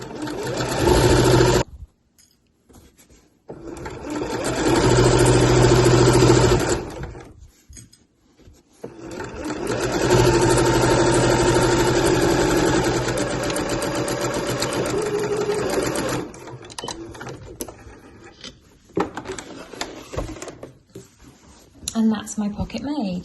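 A sewing machine stitches along the top and down both sides of a lining pocket for a slouch bag, running in long steady bursts separated by pauses, with a person talking in between.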